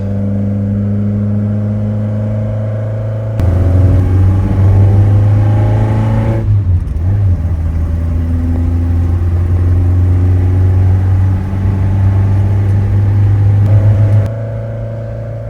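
A 1972 Ford Escort Mexico engine drones steadily while driving, rising in pitch through the gears with a sharp gear change in the middle, loud and close.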